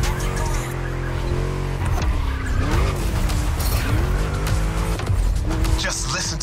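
A V8 race car in The Crew Motorfest roars loudly through a lap, its engine note rising and falling with gear changes while tires squeal in skids, mixed under other game sounds.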